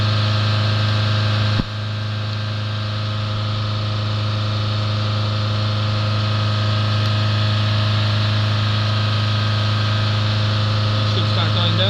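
A diesel engine runs at raised revs during particulate filter regeneration, a steady loud drone with a strong low hum that holds even after a brief click near the start.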